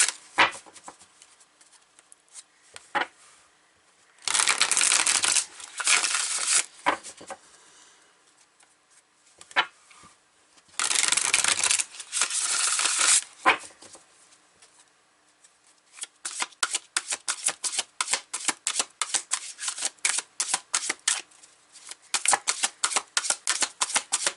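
Tarot cards are riffled and shuffled by hand, close up, in two long dense bursts of rapid flicking. A run of quick, crisp card snaps and taps follows, repeating steadily with no talking.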